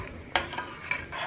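Leftover pasta sauce, once frozen, is reheated in a pan, giving a soft low sizzle with a few quiet scrapes and clinks of a spoon stirring, close and faint.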